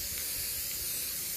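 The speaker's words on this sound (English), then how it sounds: "And then I'm going to start spraying a few inches away," Super Grip non-slip spray hisses steadily from an aerosol can held a few inches from a latch hook rug, making a brief, soft, continuous spray up close.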